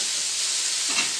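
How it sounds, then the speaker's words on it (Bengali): Onions sizzle in hot oil in a pan just after spices have been tempered, a steady close bright frying hiss that swells slightly near the end, with no talking. "দেখুন, আমি পেঁয়াজটাকে ভেজে নেবো গাইস।"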